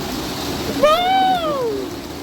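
Steady rushing water from a mountain waterfall near Manali, a broad continuous wash throughout, crossed midway by a brief rising and falling whistle-like tonal call.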